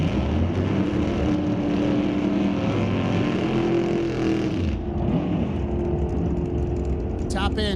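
A 1969 Chevrolet Camaro drag racing at an NHRA Canadian SPORTSnationals qualifying run, its engine roaring loud and close and then fading as it pulls away, while an announcer talks over it.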